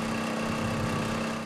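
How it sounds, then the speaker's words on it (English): A tractor engine hums steadily at close range while delivering water near smouldering bushfires, a constant droning tone with no change in pace. "The tractor still delivering the water where it's needed."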